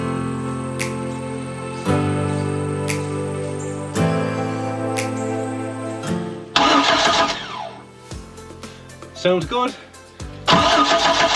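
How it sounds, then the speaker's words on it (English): A car engine is turned over by the starter motor without firing, with several separate cranking bursts separated by pauses and a steady hum running underneath. A voice speaks briefly near the end. "put power straight to the starting motor, turn the engine over a few times on the motor"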